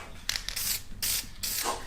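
A shaken aerosol spray can hissing out paint onto mini truck parts in short bursts, three loud close sprays separated by brief pauses.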